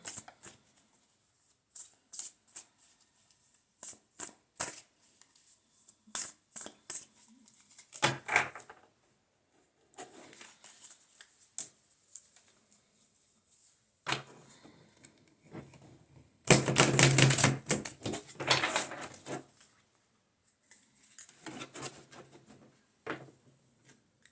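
A deck of Divine Moon tarot cards is shuffled close up, with repeated short riffling bursts and soft card slaps, pauses in between and one longer, louder shuffle near the middle.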